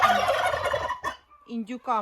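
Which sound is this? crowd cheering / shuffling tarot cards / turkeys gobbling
turkeys gobbling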